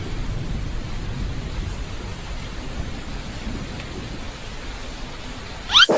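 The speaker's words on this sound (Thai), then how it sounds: "เสียงฝนตก" Steady, soft hiss of rain falling throughout, with a brief sharper burst right at the end.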